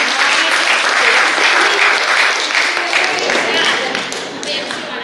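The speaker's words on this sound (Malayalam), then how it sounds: "അപ്പൊ അത് നമ്മുടെ MC നല്ലൊരു കൈയടി കൊടുത്തേ" A women's day celebration audience claps loudly for the MC, dense steady applause that tapers off toward the end.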